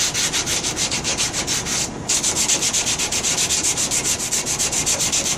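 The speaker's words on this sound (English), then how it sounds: "Right now we're starting to do the sanding and repair work on it." Steady back-and-forth rasp of 80-grit sandpaper scrubbing the wood of a stripped Zenith radio cabinet, rhythmic strokes close up with a brief pause midway, no voices.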